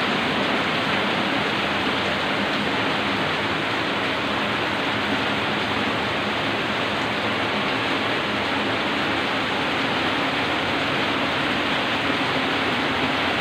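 Heavy rain falls without letup by a garage, a dense, even roar that holds steady the whole time with no voices.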